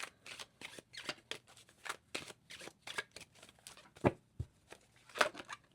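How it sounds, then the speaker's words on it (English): Tarot cards are shuffled repeatedly in quick riffling bursts, close and fairly quiet, with short pauses and a couple of sharper snaps between. "the cards are shuffling really weird today"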